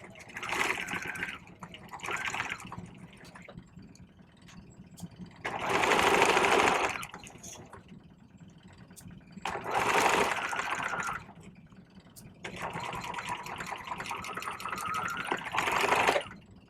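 A sewing machine stitches the shoulder seams of a vest in several bursts of steady, buzzing whir, some short and some longer, with quieter gaps between and a low background hum.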